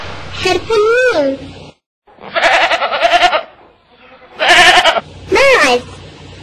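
Several goat bleats, loud and close, come in separate wavering cries with short pauses between them, standing alone with no talk over them.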